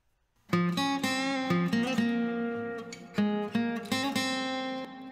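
An acoustic guitar plays a melodic solo of plucked notes and short phrases, bright and close, with strings ringing between attacks.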